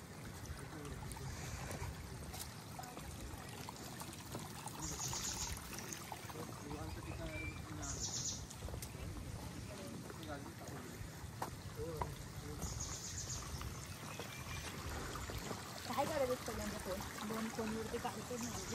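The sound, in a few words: waterfall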